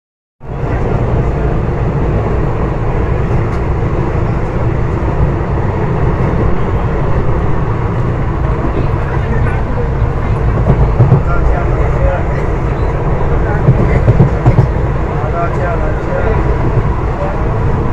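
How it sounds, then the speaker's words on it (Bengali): A passing train gives a loud, steady, dense rumble that continues for a long stretch, with no clear fade at the end. Faint voices may sit under the noise. "ওই তো চলে যাচ্ছে ট্রেন।"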